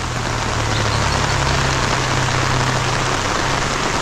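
Heavy rain pours steadily on a work site, a loud continuous hiss with a low engine-like hum beneath it.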